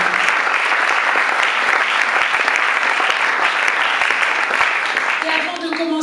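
A church congregation of young people breaks into sustained, loud applause and cheering, a dense steady clatter of clapping that holds for several seconds before thinning at the end.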